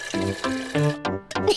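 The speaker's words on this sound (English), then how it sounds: "let's fill it with water." Water pours into a toy dinosaur used as a teapot in a cartoon tea party, heard as short, bubbly, tonal gurgling bursts with brief pauses between them.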